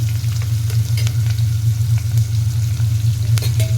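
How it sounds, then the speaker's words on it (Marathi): Onion, potato, chili and curry leaves frying together in a pan, a loud continuous sizzle over a low steady hum from the stove, with occasional soft stirring clicks and no voices. "कांदा बटाटा मिरची आणि कढीपत्ता हे सगळं एकत्र घालूया"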